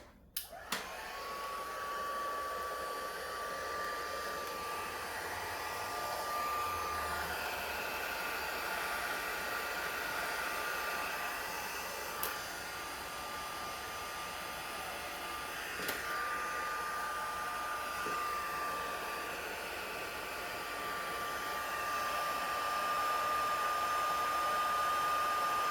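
A preheated craft heat tool blows steadily for heat embossing powder on floral cards, a continuous close airy whoosh with a faint whine that holds unbroken throughout.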